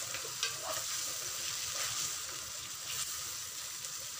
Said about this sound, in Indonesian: Ini cilinya saya goreng dulu ya